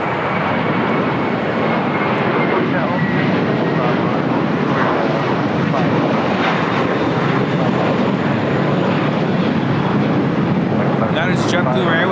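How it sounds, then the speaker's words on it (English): A JetBlue Airbus A321 takes off at LAX bound for Fort Lauderdale, a loud, sustained engine roar and rumble that fills the whole stretch. Faint voices are heard toward the end. "That is JetBlue Airways Flight 100 taking off to Fort Lauderdale on an A321"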